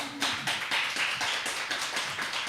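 A church congregation at a Sunday service claps in a steady rhythm, with repeated group claps roughly every quarter second, close and fairly loud.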